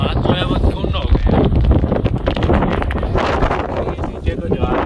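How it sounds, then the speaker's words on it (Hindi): Strong gusts buffet the microphone in a constant low roar outdoors along the Sacramento River, loud and steady throughout, with a person talking over the noise. "बहुत तेज हवा चल रही है"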